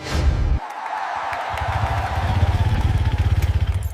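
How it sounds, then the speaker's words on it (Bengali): A motorcycle engine runs nearby, starting with a loud burst, dipping briefly, then settling into a strong, rhythmic chugging that pulses steadily toward the end. "জামাই, এই নাও তোমার বাইক।"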